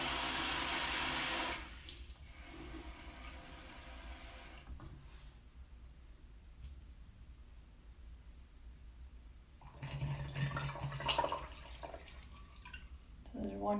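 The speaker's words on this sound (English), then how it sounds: "So I'm gonna do a cup of water." Water is poured through a funnel into a bottle, a loud rushing gush at first, then quieter trickling and gurgling, ending in another burst of splashing with handling noises.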